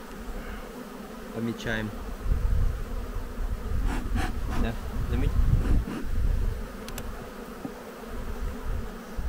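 Honey bees buzz steadily around an open apiary hive in early May, a dense insect hum close by, while a few short spoken words cut in over the buzzing.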